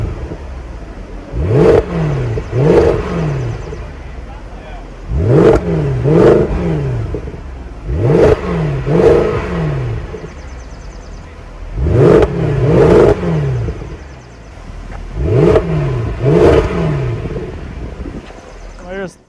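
A Mercedes W211 E63 AMG engine revs hard in five spaced bursts, each a quick double blip with a rising and falling exhaust roar, loud and close, with idle rumble between.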